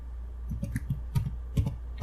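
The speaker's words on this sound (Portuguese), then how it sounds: "só que eu vou digitar ele errado" Fingers type on a computer keyboard while entering text into an Excel spreadsheet, producing a short, irregular run of close, crisp key clicks in small bursts.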